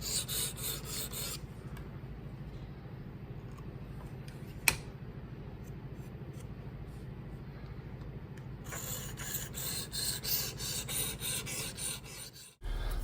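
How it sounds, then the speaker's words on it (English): A Spyderco Sage 6 knife in S90V steel being sharpened on a 320 grit diamond stone, giving a close, even rasping scrape in repeated strokes, broken by a quieter pause midway. "I was able to start at the 320 grit diamond and work my way up."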